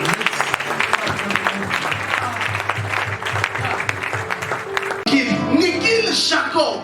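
A church congregation applauding throughout a prophetic service, with dense, sustained clapping and crowd noise that swells louder toward the end, mixed with voices.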